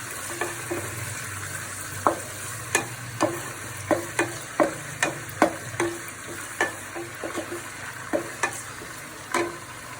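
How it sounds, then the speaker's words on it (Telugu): Green beans stir-frying in hot oil for vegetable fried rice, with a steady sizzle broken by frequent sharp scraping and clinking strokes of a spatula against the pan, close and fairly even in rhythm. "ఇప్పుడు బీన్స్ వేస్తున్నాను"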